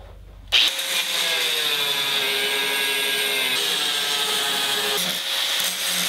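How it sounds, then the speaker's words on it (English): A power tool, likely a grinder, trims overlong steel bolts on a DIY belt squat platform in a garage gym, a loud sustained whine starting abruptly and running steadily with slight shifts in pitch. "The bolts I used, a little long, so I'm just gonna trim these off"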